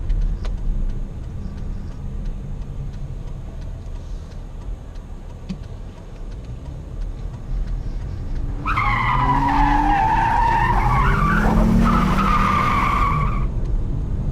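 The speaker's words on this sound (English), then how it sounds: "Sounds pretty good for a V6, right, Lauren?" A 2014 Dodge Challenger 100th Anniversary Edition V6 engine idles low, then revs hard for several seconds with a rising, strained roar before dropping back, loud and close, with no talking.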